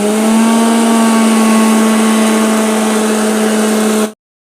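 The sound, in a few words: mixer grinder blending chili and jaggery mixture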